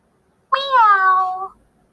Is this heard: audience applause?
no